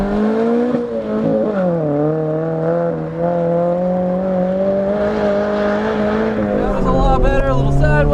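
A car slides sideways on an autocross track, engine droning and shifting pitch under load with tire noise, loud and close throughout; a person talks over it near the end.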